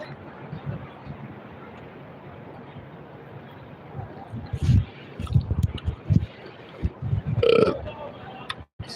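A person burps during a live stream, a low, wet, rumbling eructation standing out close over a noisy, murmuring background with scattered clicks and brief voices.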